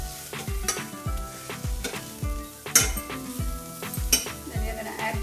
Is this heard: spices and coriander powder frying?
yes